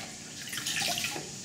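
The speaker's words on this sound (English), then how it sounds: "we've got the lettuce coming out of the sink. We've made a little basin of water" Water runs steadily into a sink basin for washing lettuce, a close, continuous splashing and trickling flow with no talk.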